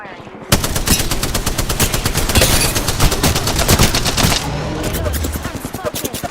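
Rapid automatic gunfire from Apex Legends, a dense unbroken stream of loud shots with a brief gap near the end before another burst resumes.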